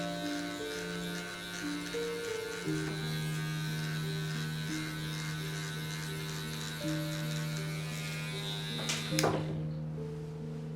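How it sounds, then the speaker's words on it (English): An electric hair clipper with its blade fully closed buzzes steadily and close during a mid fade haircut. The hum stays even in pitch and cuts off sharply near the end, with no talking. "With my clipper all the way closed"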